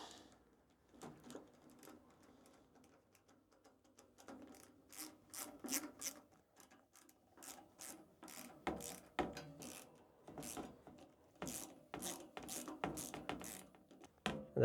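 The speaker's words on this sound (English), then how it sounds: "the last little tightening with a torque wrench." Tightening bolts on a custom ARI Shafer gravel bicycle with a torque wrench, heard as a run of sharp, rapid ratcheting rasps and clicks that come in bursts and grow busier toward the end, close by with no talking.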